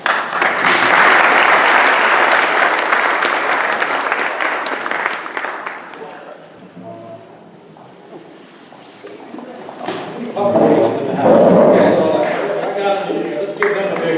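Audience at an in-home graduation ceremony bursts into loud, sustained applause, which eases off into quieter room noise midway, then swells into a second round of clapping with voices mixed in.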